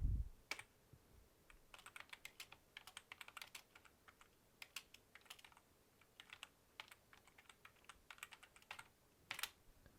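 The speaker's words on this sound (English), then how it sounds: "I will go ahead and type that in, but I will type it in quotes" Keys clatter on a computer keyboard in quick irregular taps, close and quiet, with short pauses between bursts of typing.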